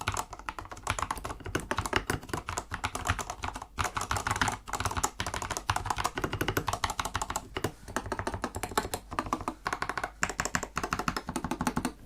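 Steady typing on a Tecware Phantom Plus Elite wireless RGB mechanical keyboard with hot-swap switches, close and continuous clacking keystrokes with brief pauses and no talking.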